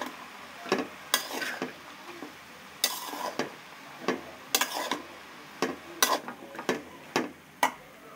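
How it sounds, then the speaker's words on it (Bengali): Bottle gourd curry being mixed by hand with turmeric and chili in a pan, heard as close, irregular scraping and tapping strokes in bursts, with no voices. "আমরা একত্রে এগুলো মাখিয়ে নিই, কারণ এই লাউ তরকারিতে হলুদ মরিচ খুবই কম লাগে।"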